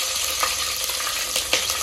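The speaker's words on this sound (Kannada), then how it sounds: "ಎಣ್ಣೆ ಬಾಳ ಕಾದೈತಿ ಅದ್ರ ಸಲಾಗಿ ನಾ ಸಿಡಾಕ್ತಿ" Very hot oil sputters and sizzles steadily in a village-style kitchen, with a few sharper pops rising from a constant crackling hiss.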